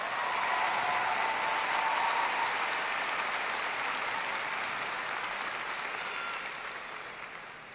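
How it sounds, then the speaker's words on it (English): A graduation audience breaks into steady applause, a dense wash of many clapping hands that holds strong and then tapers off near the end, with no voices over it. "Round of applause, please."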